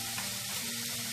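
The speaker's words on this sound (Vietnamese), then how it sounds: "Mình chiên trong ngập dầu như thế này nè các bạn" Potatoes and mushrooms deep-fry in a pan of oil for a vegetarian stir-fry dish, giving a steady, close, crackling sizzle with no talking.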